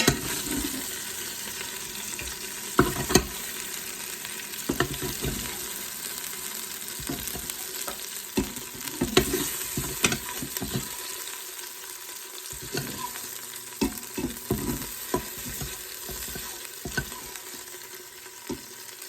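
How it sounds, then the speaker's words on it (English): Steak and mushroom bites brown in an Instant Pot with a continuous close sizzle, punctuated by repeated clacks and scrapes of a utensil moving the meat, and some running water from a nearby tap. "these are finished browning in here, so I'm going to take them out"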